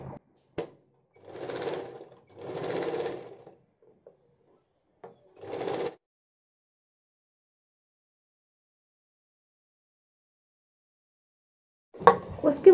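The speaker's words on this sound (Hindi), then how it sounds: "नेक पट्टी के साइड से एक सिलाई करना है" A sewing machine stitches the neckline side of a sleeveless blouse in short bursts, three main runs of motor hum with brief stops between, then a long quiet stretch before a final clattering start.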